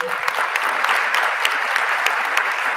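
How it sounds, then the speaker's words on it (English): A crowd at a high school senior academic awards ceremony applauds, a steady, full round of clapping with scattered sharper claps standing out, continuing throughout. "So let's give them a round of applause."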